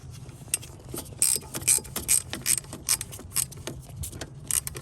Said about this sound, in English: I'm going to break that free with a flex head 10 millimeter box end wrench.